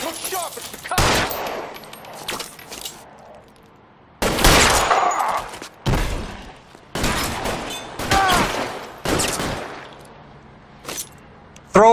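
Gunfight in the video game L.A. Noire, several loud bursts of rapid gunfire and single shots in close succession with short gaps between them, plus a shouted voice among the shooting.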